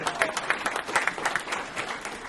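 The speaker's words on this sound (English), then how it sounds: "Another round of applause." Audience applause after a meal at a gathering, a steady patter of many hands clapping at moderate distance, with a few louder claps standing out.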